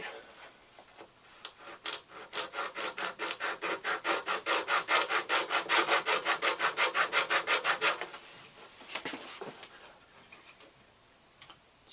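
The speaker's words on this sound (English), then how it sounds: "I made a sanding block with a piece of sandpaper and a piece of wood" Rhythmic back-and-forth rasping of sandpaper on a wooden sanding block, about two strokes a second, building louder then stopping, followed by a few light knocks.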